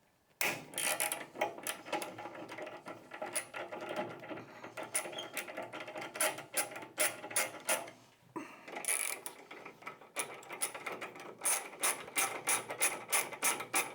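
Front fender bolts on a 2024 Harley-Davidson Touring motorcycle being loosened, rapid close ratcheting clicks in bursts with a short pause midway.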